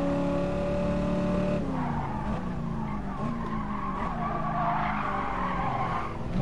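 A Dodge Challenger slides around the Brands Hatch circuit with a loud, continuous tire squeal over a droning engine whose pitch rises and falls as the car drifts.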